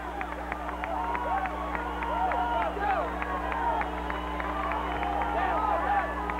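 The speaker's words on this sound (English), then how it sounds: "passing through their cheerleaders to a rather mixed reception here from, as I indicated, partisan Iowa crowd" A partisan Iowa crowd at the 1984 Freedom Bowl in Anaheim reacts as the Texas Longhorns take the football field, a steady distant stadium roar with a whistle-like tone running through it, while a commentator talks over it.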